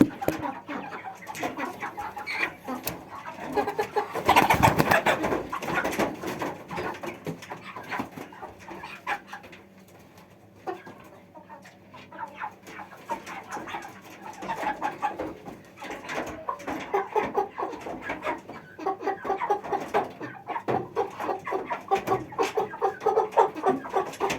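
Broiler chickens cluck intermittently nearby during weighing, with a brief louder flurry of activity and scattered bird noises over a steady farmyard background.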